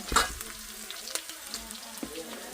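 Onions sauté in a pan in a Tamil home kitchen, giving a close, steady crackling sizzle broken by a few sharper stirring scrapes, with no voices.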